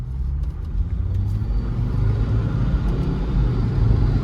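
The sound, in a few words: Rexton car driving into a turn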